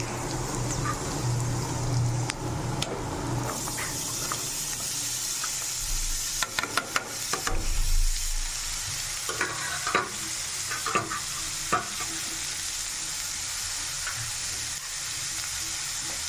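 Pieces of seema brinjal (Rayalaseema eggplant) drop into a pan of fried onions and green chillies, then are stirred amid steady frying sizzle, with a few clattering scrapes of a spoon near the middle; no one speaks.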